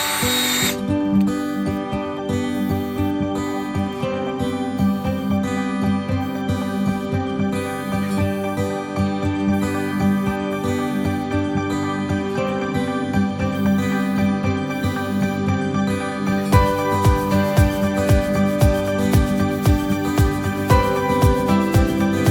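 A drill-driven hone is run in passes through the cylinders of a Ford 5.0 engine block for a 1970 Ford Falcon, making a loud, continuous whirring grind with a varying pitch and a rougher, chattering stretch toward the end.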